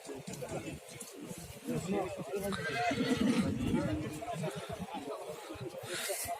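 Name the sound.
horse neighing at Osh livestock market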